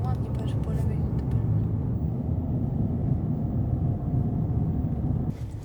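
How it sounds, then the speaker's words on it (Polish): A car drives over desert sand in Oman's Wahiba Sands, giving a steady low engine and rolling rumble with wind buffeting, and a voice speaking over it. "jedziemy po piachu"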